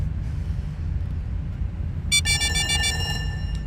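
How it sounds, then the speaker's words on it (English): Alarms and sirens in the video game Duskers: a loud, steady ringing electronic alarm tone cuts in partway through over a low droning background rumble and keeps sounding to the end. "Lots of sirens, lots of ringing, lots of noise."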